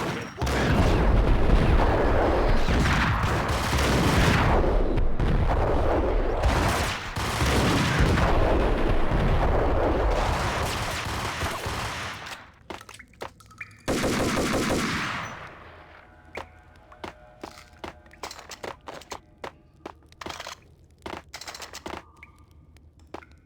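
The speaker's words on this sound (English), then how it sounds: "Someone's just firing like crazy?" Sustained, loud automatic gunfire from the Max Payne video game, dense bursts rattling for about twelve seconds before breaking into scattered, sharper single shots and clicks that trail off more quietly.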